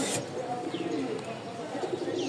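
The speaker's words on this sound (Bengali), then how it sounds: "দেখতে পাচ্ছেন এক জোড়া আবলোক কবুতর।" A pair of Aboloke pigeons cooing nearby, soft repeated low coos over light background noise.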